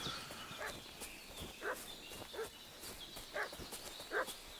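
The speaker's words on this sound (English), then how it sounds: "I hear that dog barking and that's not good." Dog barking in the Kingdom Come Deliverance 2 video game, heard as several spaced, moderately distant barks over a steady woodland ambience.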